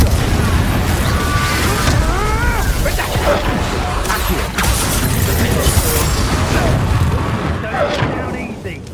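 Expelliarmus spell cast during combat in Hogwarts Legacy, with booming magical blasts, thuds and crashing impacts in a dense, loud battle mix, while a voice shouts over the action.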